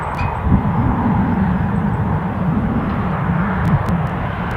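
An airliner departs Newcastle airport, probably bound for Krakow, Poland, and its jet engines make a steady, loud low roar that holds evenly throughout with no talk.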